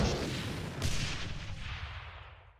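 Seeking rockets fired in the game GZDoom God Complex: one heavy, booming blast at close range, then a second thump that decays into a fading rumble.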